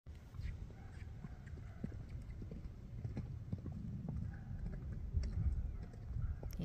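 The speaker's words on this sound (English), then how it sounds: "we'll get him doing some cantering for you" A gaited horse canters slowly along a hill outdoors, its hooves clip-clopping in a steady, rolling rhythm at close range. Light wind is in the background and no one speaks.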